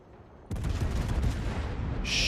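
Warship guns from World of Warships boom in a sudden heavy, sustained barrage, loud and close, with rumbling low-end thunder and no talk over it.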